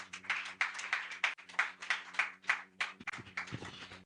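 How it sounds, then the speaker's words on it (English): Audience applause at the close of a public lecture, a thin spread of clapping with distinct hand claps pulsing unevenly, moderately faint and fairly distant, with no talking over it. "The applause should be louder than this."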